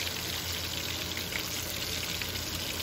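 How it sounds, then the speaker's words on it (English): Chicken wings pan fry in grease with a steady, even crackling sizzle that stays at a constant level throughout, fairly quiet and with no talking. "And as you can see, I'm actually pan frying."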